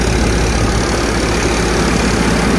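The engine of a Mukandgarh threshing machine runs at a steady, heavy drone, loud and close. Its low rumble stays unbroken throughout, with no voices.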